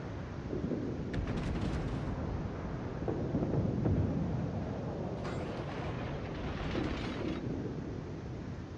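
Torpedo hits and heavy blasts striking the battleship Kaiser in a naval video game, deep rumbling booms rolling over a constant roar, with sharp crackling bursts near the start and again toward the end.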